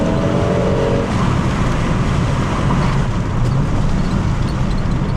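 A Volvo 850 GLT engine drones loud and steady from inside the car while driving, with a low rumbling growl that holds without any clear rise in revs.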